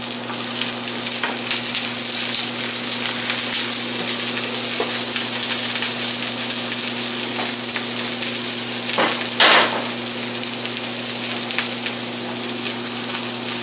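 Cauliflower and mixed vegetables sizzle steadily in a hot frying pan, a loud continuous crackle with occasional stirring scrapes, no voices.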